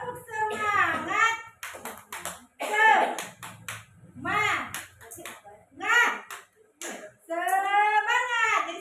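A group claps out the patterned 'tepuk semangat' classroom ice-breaker in quick rhythmic bursts, alternating with a voice speaking and chanting between the clap sequences.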